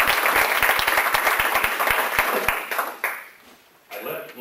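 Audience applause at a Humble business luncheon for Memorial Hermann Northeast, a burst of close claps that fades out after about three seconds, followed by a voice.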